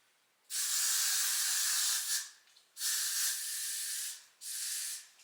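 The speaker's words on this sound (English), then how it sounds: "spray it with the Got2b" Three hissing bursts from a Got2b hairspray can, the first about one and a half seconds long and the next two shorter, each separated by a brief pause.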